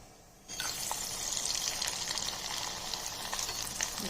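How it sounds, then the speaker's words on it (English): Onion fryums dropped into hot oil on a medium flame, bursting into a loud, steady, hissing sizzle after a quiet half-second start and holding close and continuous. "Now we will fry and show."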